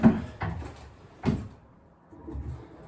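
During a plumbing job indoors, a heavy object knocks against a cupboard door. There are a few dull, close thuds, the loudest in the middle, between quiet pauses.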